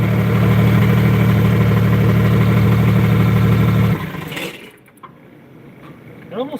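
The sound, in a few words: diesel truck engine exhaust noise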